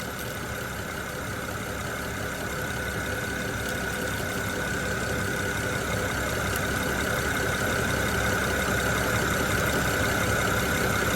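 A 2010 BMW 535i engine runs at a steady idle while warming up, an even mechanical hum with a faint whine that builds slightly in level, with no talking.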